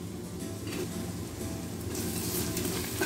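Tomatoes sauté in a pan for egg biryani, a steady close sizzle with the soft scrape and shuffle of stirring running through it, no voices.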